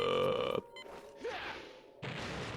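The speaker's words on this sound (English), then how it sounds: "And then he burps at you." A character belches in Star Fox Adventures: a short tonal game sound gives way to a gurgling, rising burp, followed by rough noisy bursts, moderately loud with no talking.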